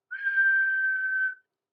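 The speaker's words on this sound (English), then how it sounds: "his whistle blew" A railway guard's whistle blows once as a steam engine departs, a single steady shrill tone held for just over a second, clear and alone.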